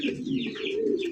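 Pigeons on a pigeon farm cooing close by, a low throaty rolling coo running throughout, overlaid with higher chirps from other birds.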